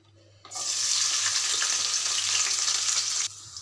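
Chopped onions drop into a pot of hot oil, bursting into a loud, steady, close hiss that holds for a few seconds and then cuts back to a quieter background.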